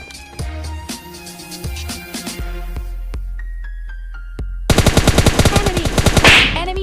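In PUBG Lite, gunfire comes first as scattered bursts and single shots, then turns into a loud, rapid, sustained automatic volley of evenly spaced cracks.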